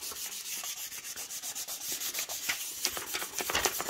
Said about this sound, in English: we just use the film that it comes on and just press down and rub over